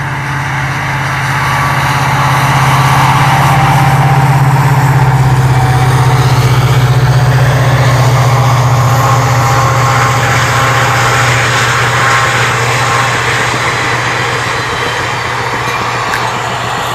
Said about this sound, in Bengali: কারণ একটা ট্রেন আসতেছে